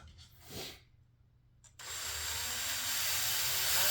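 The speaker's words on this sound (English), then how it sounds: "I got that in my old trusty Black & Decker drill here" An old Black & Decker drill with a 3/32 bit drills into a Hanger 9 Carbon Cub model aircraft during an engine install. A brief rustle comes first, then the drill starts abruptly and runs as a steady, rising close whine.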